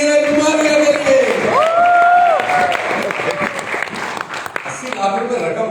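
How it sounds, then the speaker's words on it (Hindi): Applause from an audience at a live third-anniversary celebration event in Bangkok, a broad steady clatter of clapping that fills the stretch, with voices and other sounds mixed in over it. "जोरदार तालियां"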